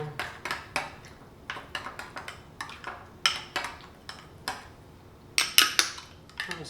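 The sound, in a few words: mixing tofu finger ingredients with garlic in a bowl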